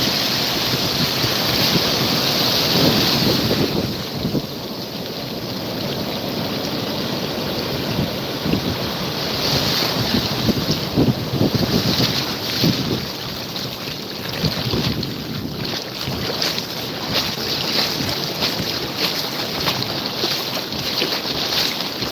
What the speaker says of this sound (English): Pretty crazy waves today